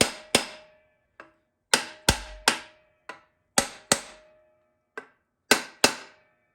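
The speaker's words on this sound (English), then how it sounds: "all we're going to do is take a hammer and a brass drift" A hammer strikes a brass drift to tap a TH350 transmission pump into place, giving about fourteen sharp, ringing metallic hits in irregular pairs and singles, each decaying quickly, close and loud with no talk.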